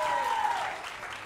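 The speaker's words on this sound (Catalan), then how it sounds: "Un aplaudiment per ell." A studio audience gives a brief burst of applause for contestants on a Catalan school quiz show. The clapping is steady and dense, fading slightly toward the end.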